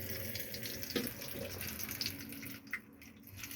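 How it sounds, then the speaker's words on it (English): Warm water runs steadily from the tap of a vanity sink in a Coachman Laser Xtra 575 caravan, a continuous close splashing flow with a few brief knocks and no talk. "Nice warm water coming through there"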